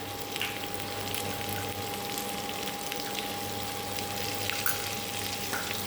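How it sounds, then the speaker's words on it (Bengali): Chopped onion, garlic, ginger and green chilli fry in a pan, giving a steady, even sizzle throughout with a faint constant hum and no talking. "দিয়ে এটাকে আমি একটু ব্রাউন করে ভেজে নেব।"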